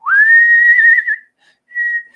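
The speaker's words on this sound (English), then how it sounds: "you got to know how to whistle with your mouth first" A single clear, steady whistled note held for about a second, followed by a short pause and a second, shorter note at the same pitch.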